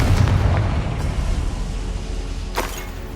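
A loud, booming Confringo fire-spell explosion in the Hogwarts Legacy video game, opening with a heavy low rumble that slowly fades, with a couple of fainter crackling bursts inside it.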